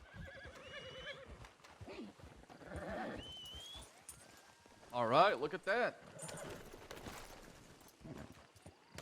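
A horse in the Red Dead Redemption 2 role-play game whinnies and snorts at close range while someone talks over it, with light game sounds underneath.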